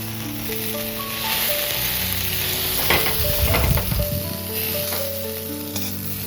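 Pieces of taro crackle and sizzle in hot oil in a kadai, a continuous bright frying hiss with bursts of popping and occasional stirring scrapes, close and loud.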